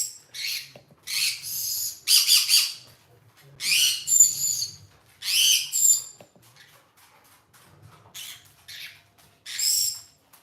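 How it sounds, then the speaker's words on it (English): Pet birds indoors let out repeated loud, shrill squawks and screeches in irregular bursts separated by short quiet gaps, with no talking. "Oh, now my birds are going crazy."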